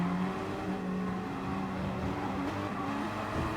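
Gr.3 race cars in Gran Turismo Sport circle the Dragon Trail Gardens II circuit, a steady engine drone with shifting harmonic tones as cars run close together, continuous and fairly loud with no voices.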